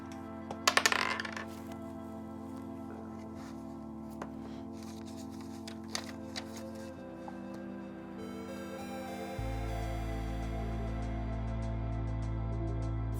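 Dice clatter and tumble in a quick rattling burst near the start, followed by a few scattered small clicks and ticks over a steady low hum during a tabletop miniature painting session.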